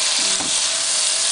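Beef and red sweet pepper sizzle loudly in an oily pan during a stir fry, a dense close hiss without break.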